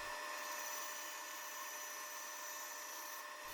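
A bandsaw cuts hardwood chair pieces with a continuous steady whine and rasp, close and even throughout, with no talking.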